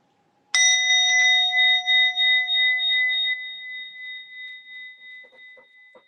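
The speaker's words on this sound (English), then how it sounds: "So begin with just listening to the bell." A mindfulness bell is struck once with a bright metallic ding, and the tone rings on and slowly fades over several seconds in a quiet room, with a few faint soft sounds near the end.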